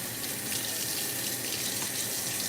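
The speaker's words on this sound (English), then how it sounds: "Want to have some cool water when we go to rinse this steak." Cool tap water runs steadily from a kitchen faucet, the kind used to rinse a raw steak: a continuous, even hiss of splashing flow, close by with no voices.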